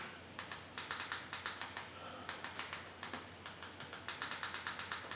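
Command being typed on a computer keyboard to reboot an A95X Pro Android box: quick bursts of close, crisp key taps in uneven clusters, fairly quiet and with no talking.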